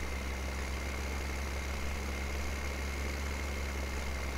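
Tractor engine idling in Landwirtschafts-Simulator 17 during a night shift at a quarry, a steady low hum and drone with no variation, fairly quiet and alone.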